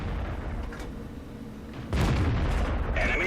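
A tank gun fires in World of Tanks with a single deep, loud boom about two seconds in, rising out of a steady rumble of engine and battle ambience.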